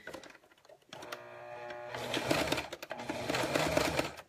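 A sewing machine stitches fabric alongside a zipper, starting after a quiet pause with a steady mechanical whir and rapid ticking needle strokes, close and fairly clear, with no talking over it.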